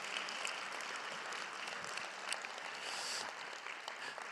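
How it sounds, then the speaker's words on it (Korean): A church congregation at a 50th-anniversary revival meeting claps steadily, quietly and at a distance, a continuous patter of many hands that lasts throughout. "우리 서로에게 잘 오셨다고 한번 네 박수"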